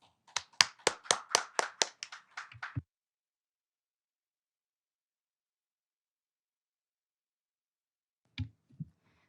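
An audience at an education policy forum claps to welcome a presenter in a short burst of about a dozen sharp claps over roughly three seconds. It then falls silent, and a few faint knocks follow near the end.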